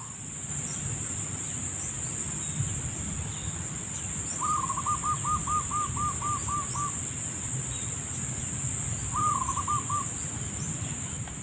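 A zebra dove (perkutut) gives a short run of rapid, evenly spaced cooing notes and later a brief second call, fairly distant, over a constant outdoor backdrop of insect and cricket buzz.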